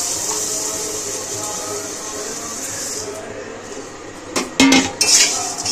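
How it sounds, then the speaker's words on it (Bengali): Dry puffed rice poured into an empty kadai for egg muri, a steady rushing hiss of grains on metal followed by a few sharper clinks and scrapes near the end. "এবার খালি কড়াইয়ের মধ্যে মুড়িটা ঢেলে দেবো।"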